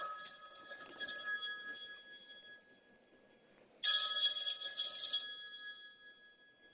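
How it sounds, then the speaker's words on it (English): A phone rings with a trilling electronic tone: a softer burst at first, a pause, then a louder, sustained ringing burst close by, with no talking over it. "Oh, my phone's ringing."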